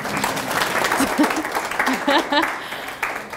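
An audience at a school event applauds, giving a dense, close burst of clapping that runs throughout, mixed with cheers and voices from the crowd.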